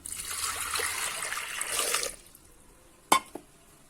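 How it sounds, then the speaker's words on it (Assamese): Water pours in a steady stream into a metal pressure cooker holding potatoes for about two seconds, then stops, followed by a couple of sharp clanks. "আৰু দিম এতিয়া জোখমতে পানী।"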